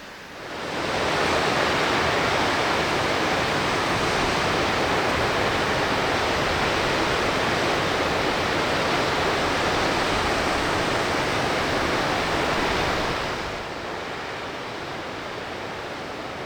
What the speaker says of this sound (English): that's a tall waterfall